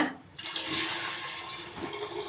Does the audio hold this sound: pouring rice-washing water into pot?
yes